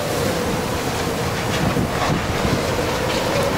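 Blizzard wind blowing hard outside an apartment building in Togiak, Alaska, a steady broadband roar with gusty rumble buffeting the microphone throughout, no voices.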